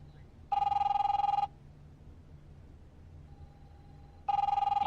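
An old-fashioned telephone ringing in The Wolf Among Us game: two loud, close bursts of rapid bell trilling about a second long, separated by a pause with quiet room tone.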